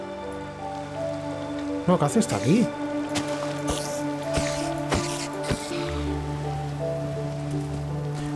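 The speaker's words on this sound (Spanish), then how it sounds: "Y encima lloviendo, tío, madre mía." Rain falling in Minecraft, a soft continuous patter under game music tones and sound effects, with someone speaking Spanish over it.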